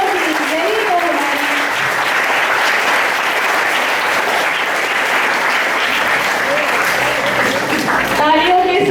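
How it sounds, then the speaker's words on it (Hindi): Audience applause welcomes guests at a Hindi Diwas school celebration: loud, sustained crowd clapping fills the whole span while a voice speaks over it near the start and end. "तालियों के साथ स्वागत कीजिए"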